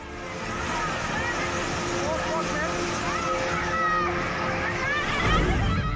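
Raging floodwaters surge and rush past a collapsed bridge in India, a steady, loud broadband roar that swells slightly toward the end, with a voice talking over it throughout.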